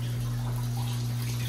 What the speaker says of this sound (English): Water's going through the chiller.